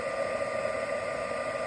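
A steady, whirring blast of hot air from a heat tool heating paper, constant and even throughout with a droning tone.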